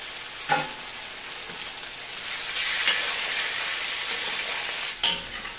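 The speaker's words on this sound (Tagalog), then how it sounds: "gigisa na yung tuwalya ng baka" Beef tripe sautés in a pan for kare-kare with a bright continuous sizzle that swells midway, broken by a few sharp stirring knocks; close and clear, with no voices.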